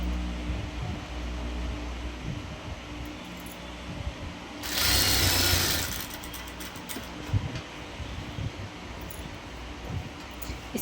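A sewing machine stitches a folded frock ruffle with steady low mechanical whirring and clicking, broken by a loud hissing burst in the middle. Nearby, with no voices.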